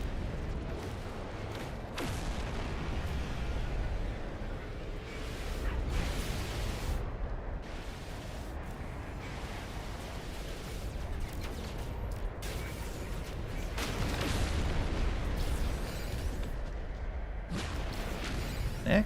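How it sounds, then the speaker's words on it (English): Spaceship photon cannon fire in No Man's Sky during a fight with hostile ships, a steady roaring barrage of blasts and whooshes running the whole way with repeated bursts and no voices. "Just tear him down with the photon cannon."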